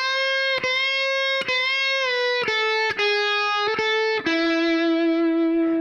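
Distorted electric guitar plays a solo high on the neck, a clear run of sustained, ringing notes with bends and string changes, loud and alone.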